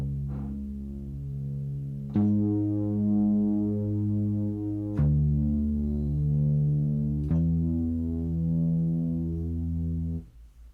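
A buzzy, distorted synth plays sustained low notes, changing pitch three times with sharp attacks, ending abruptly.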